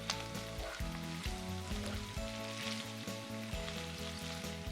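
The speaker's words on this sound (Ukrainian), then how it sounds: "Ось так все смажиться. Грибочки на сковорідці" Honey mushrooms sizzle steadily in a hot frying pan for the whole stretch, a dense crackling hiss over a low, tonal hum that sounds like music in the background.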